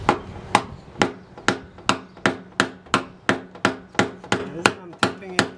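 Evenly spaced sharp metallic taps of a Snap-on punch working out a dent in a BMW body panel, about fourteen crisp strikes in a steady rhythm, close and alone without speech.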